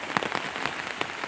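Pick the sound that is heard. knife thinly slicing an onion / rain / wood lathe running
rain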